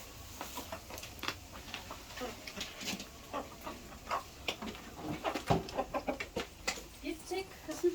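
Chickens cluck and peck while feed is scattered for them outdoors, soft irregular clucks and scratchy taps at moderate distance, with faint farmyard sounds around.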